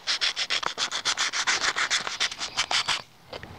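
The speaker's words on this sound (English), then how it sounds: "I'm taking some 220 sandpaper, and I'm just going to roughen up the surface." Brass tubes being roughened with 220-grit sandpaper in a woodturning pen project: rapid, even back-and-forth rubbing strokes, about a dozen and a half in quick rhythm, close and clear, ending in quiet with a couple of light scuffs.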